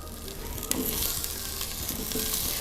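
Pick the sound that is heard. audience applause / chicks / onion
onion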